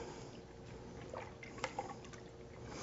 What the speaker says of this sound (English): Now we're also going to add about a quart of half and half to this.